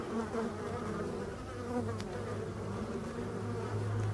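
Black honey bees enter a hive carrying yellow mustard pollen, with a dense, steady buzzing hum of many bees close by and no voices.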